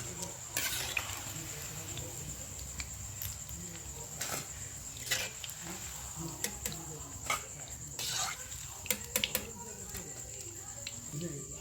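Vinegar-soaked chicken pakora pieces fry in hot oil, making a steady close crackle with scattered sharp pops and occasional utensil clicks while a voice talks over it.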